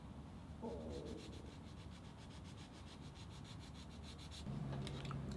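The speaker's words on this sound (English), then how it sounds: "So I need my file." A metal file rasps along a guitar fret in a quiet, continuous scraping stroke. The sound is faint, close and steady, with no talk over it.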